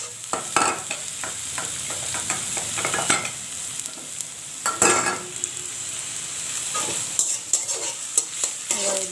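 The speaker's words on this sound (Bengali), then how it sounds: "এবার এই দুটো একসঙ্গে ভালো করে একটু ভেজে নেব।" Crushed garlic and softened onion fry in a pan for ghugni, a steady sizzle broken by repeated scraping, clattering stirs of a spoon against the pan.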